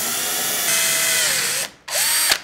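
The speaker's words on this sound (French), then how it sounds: "Percez sur le repérage à 9 mm de profondeur avec la mèche à bois de 5 mm" Power drill boring into wood with a 5 mm wood bit to 9 mm depth while building a kitchen counter, a steady high whine that stops, then a second short burst of drilling, close and loud.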